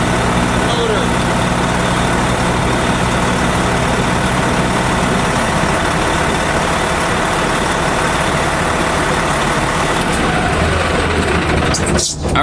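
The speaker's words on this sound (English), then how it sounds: "I'm going to go ahead and shut down all the lights and shut down the generator and the" A truck engine and generator run together in a loud, steady, droning idle with constant hum and rumble that continues unchanged until a brief disturbance at the very end; a person talks briefly over the noise.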